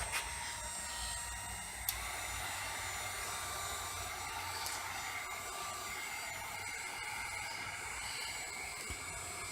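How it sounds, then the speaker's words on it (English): A handheld heat gun blows steadily to dry fresh paint on flat blades, a continuous airy hiss and fan whir that holds at an even level throughout, close by and alone. "I'm going to use my handy dandy heat gun to give it a little bit quicker dry time"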